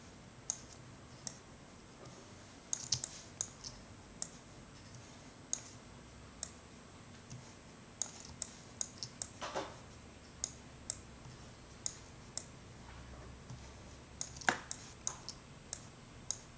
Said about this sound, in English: Now I'll click on my line to continue it,